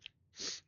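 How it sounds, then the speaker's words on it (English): A single quiet sneeze from a person, a brief sharp intake followed by a breathy burst, close to the microphone with no talking. "Ah, I'm gonna sneeze."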